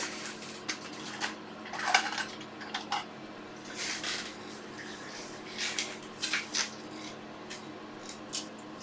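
Small metallic clicks, taps and light scrapes come up close and faint as a socket is fitted during a repair on a workbench, with irregular bursts of handling noise over a quiet hum.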